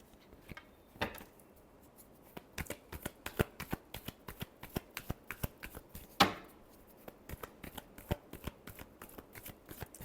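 A tarot deck is shuffled by hand, a quiet run of crisp, rapid card flicks and riffles with one sharper burst midway.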